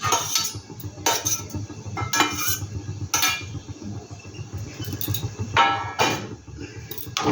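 A spoon stirs a cauliflower pakora mixture in a bowl with ground paste, green chilli and chopped coriander, giving repeated scraping clinks in an uneven rhythm, close and fairly loud, with no talking.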